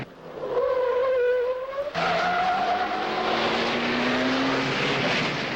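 A Formula 1 car slows for a tight first-gear corner, its engine note dropping under braking, then rising again as it pulls away with a loud, continuous roar.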